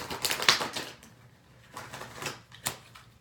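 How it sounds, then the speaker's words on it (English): Tarot cards shuffle in quick, crisp riffling bursts, close and fairly quiet, with short pauses between handfuls and no talking. "Get some shuffling."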